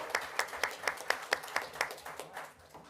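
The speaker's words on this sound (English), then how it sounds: "Let's give them another round of applause." A handful of people at a city council meeting clap in a fairly even rhythm, about four claps a second, moderately close, fading out toward the end.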